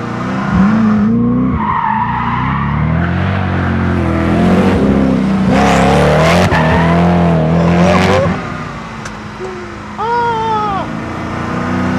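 A Koenigsegg Agera R supercar is driven hard around a small track: the engine revs rise and fall through gear changes, with tires squealing and skidding through the corners, loud and close throughout.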